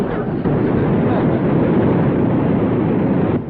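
An engine races hard with wheels spinning in mud, a broad steady roar that starts abruptly, holds constant for about three seconds and cuts off.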